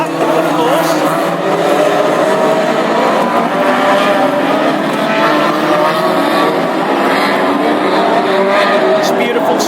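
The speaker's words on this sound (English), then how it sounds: "So this is the warm-up lap, of course." Classic hot rod race cars circle Lochgelly's oval on a warm-up lap at the Scottish Open, a steady, continuous engine drone with a dense pack of motors and no clear passes, with commentary over it.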